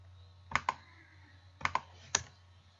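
A few separate keystrokes on a computer keyboard typed with long fingernails, heard as two pairs of crisp clicks and one final tap in a quiet room.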